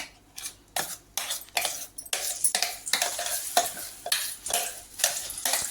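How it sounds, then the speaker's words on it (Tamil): Bananas stirred in melted ghee for banana halwa: a spoon scrapes and clatters rhythmically against the pan under a soft sizzle, close and steady with no talking. "நம்ம வாழைப்பழத்தெல்லாம் உள்ளே போட்டுட்டு நல்லா மிக்ஸ் பண்ணி விட்டுக்கிட்டே இருக்கணும்"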